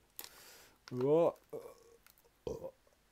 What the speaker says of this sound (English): I had to give myself a little burp